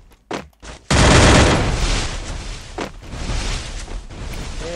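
Video game gunfire from a jump shot: a couple of short bursts, then a loud sustained roar of rapid shots and blasts that rumbles on and fades slightly.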